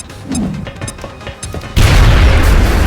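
A frag grenade explodes in the video game XCOM: Enemy Within. Some light clicks and clattering effects come first, then a loud, sustained roaring blast and rumble fills the last second or so.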